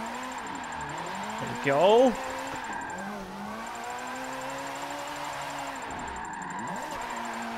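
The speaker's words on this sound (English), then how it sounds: "this is a 458 that we're taking sideways here at Maple Valley" A Ferrari 458 drifts sideways at Maple Valley in Forza 7. The engine holds a steady high-rpm drone, with a quick rev rise and a few pitch dips, and someone speaks briefly.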